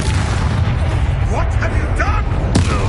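Bombarda spell explosions boom through a Hogwarts Legacy fight against poachers, a loud, continuous roar of blasts and crashes with voices talking over the combat.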